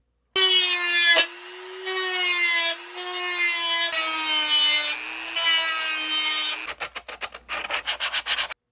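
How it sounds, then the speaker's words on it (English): Dremel rotary tool trimming plastic stormtrooper costume forearm armor, a high steady whine with shifting pitch as it cuts, close and loud, followed by rapid rough grinding pulses at the end. "Just remember when you're Dremeling, the armor itself has a natural line built into the mold"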